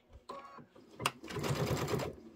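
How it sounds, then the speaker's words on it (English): Quilt pieces are fed through a sewing machine up close, with a few quick clicks and a short burst before a steady mechanical whir of stitching for about a second. "let's start sewing"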